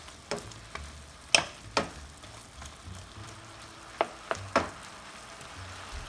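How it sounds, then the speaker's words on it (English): Garlic clove mashed with a knife is stirred into pork frying in a pan, giving a soft background sizzle broken by a few sharp scraping and clinking strokes of the spoon against the pan. "I'm going to add my large garlic clove that I mashed with a knife. And I'm going to give it a stir."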